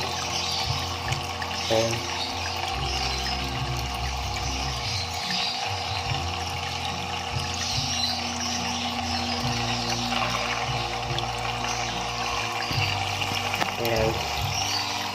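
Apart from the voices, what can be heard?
water flowing from a hang-on-back aquarium filter FL-401A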